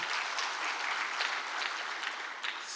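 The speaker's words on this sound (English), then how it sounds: "Please give her a round of applause." Steady, dense applause from an audience at a government gathering in Turkana, sustained at an even level for a few seconds without any voice over it.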